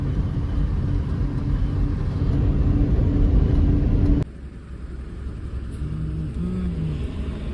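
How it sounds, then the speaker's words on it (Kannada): Eicher truck engine rumbling steadily while driving, a loud continuous drone that drops suddenly partway through to a lower, quieter hum, with no talk. "ಫಸ್ಟ್ ಟೈಮ್ ಗುರು ಈಚರ್ ಡ್ರೈವ್ ಮಾಡ್ತಿರೋ ಒಂಥರ ಚೆನ್ನಾಗಿದೆ ಮಜಾ"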